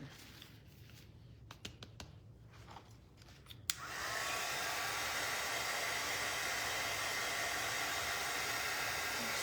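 A handheld hair dryer switches on to dry a spring farmhouse kitchen mixer napkin craft. A few light handling taps come first, then a loud, steady rushing blow carries to the end with no talking.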